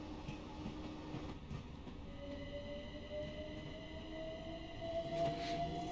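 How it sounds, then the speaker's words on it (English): Another train passes in Train Sim World on a London commuter line, a steady rolling rumble with a thin rising wheel squeal building over several seconds and no voices. "And we're not the only train going into the station."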